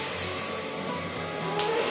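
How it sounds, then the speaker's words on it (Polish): A hair dryer blows a continuous, even whoosh close by, with a small bump in the airflow near the end and no voices over it. "A ja zaraz wyciągam suszarkę i będziemy się suszyć."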